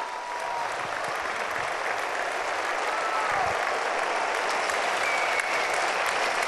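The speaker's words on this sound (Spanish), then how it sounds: "les pedimos un fuerte aplauso" Steady, dense applause from a large outdoor audience in a plaza at a Holy Thursday Passion play in Lerma, continuous and even throughout, with a faint voice faintly beneath it.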